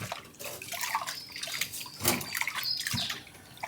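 Raw liver being rinsed and rubbed by hand in water, continuous close sloshing and trickling with small splashes and drips throughout.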